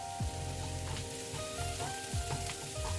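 Onions frying in a pan give a constant soft sizzle, with the spoon stirring and scraping every second or so, close by.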